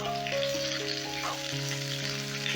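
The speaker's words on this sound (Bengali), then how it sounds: "একটু হালকা করে শিমটা ভেজে নিতে হবে" Flat beans fry lightly in oil for a Bengali mustard-spiced bean dish, giving a steady, close, even sizzle that runs unbroken from start to finish, with a faint sustained tonal hum beneath it.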